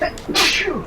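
A single sharp sneeze, sudden and close, with a breathy burst and no talking around it.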